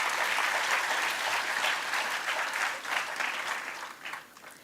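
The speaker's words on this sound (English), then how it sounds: "Can we have a huge round of applause for sir?" An audience at a school's Shubharambh 2024-2025 event applauding a guest, a full, sustained burst of many hands clapping that gradually thins and tapers off over a few seconds.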